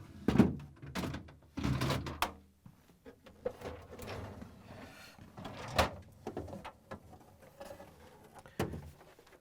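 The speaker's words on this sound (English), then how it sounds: "we're going to pull out all three drawers" Drawers are pulled out of a Samsung refrigerator, giving several sliding rumbles and sharp plastic thunks and clicks spread out over the stretch, close and moderately loud, with no talking.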